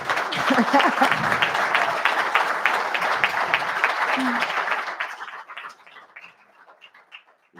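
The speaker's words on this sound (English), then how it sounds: "Once again, ladies and gentlemen, a round of applause, please, for this lovely panel." Applause for a panel at an afternoon conference session, a dense wash of clapping from a crowd with faint talk underneath, thinning out and dying away toward the end.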